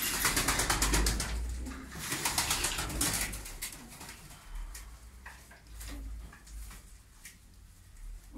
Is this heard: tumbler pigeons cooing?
yes